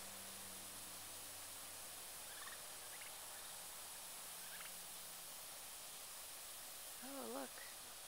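Wild turkeys in a backyard give a short burst of gobbling near the end, faint and somewhat distant over steady background hiss, with a few soft calls earlier.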